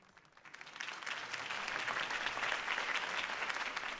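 Crowd applause from the Batman: The Telltale Series video game, rising quickly from quiet and then holding as a steady, dense wash of clapping for several seconds.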